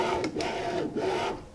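A Monoprice Select Mini 2 3D printer in need of restoration moves its axes, giving off a close, buzzing mechanical whine in short pulses, with a rough grinding edge from the Y-axis and no talking.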